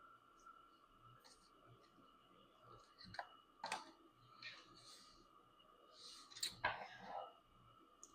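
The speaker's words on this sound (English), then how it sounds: "Got a good little shuffle here." A deck of tarot cards is shuffled close up, a quiet run of soft riffling clicks and rustles with a few sharper snaps, under faint murmured speech.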